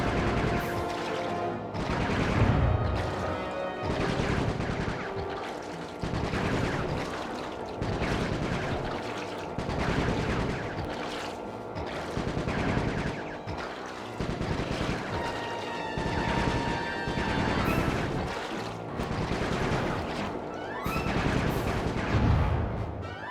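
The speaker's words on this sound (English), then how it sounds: "Nice shooting, Bentley." Gunfire in the stealth-action video game Sly 3: Honor Among Thieves, dense rapid bursts of shots and impacts running steadily for over twenty seconds, loud and continuous with game music beneath.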